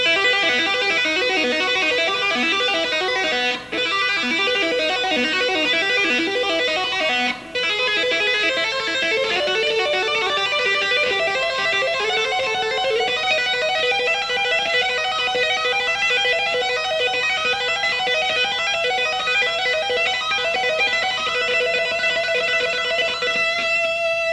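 An electric guitar plays a sustained, effect-laden melodic lick on the second string, with ringing notes blending together, steady and fairly loud with no talking.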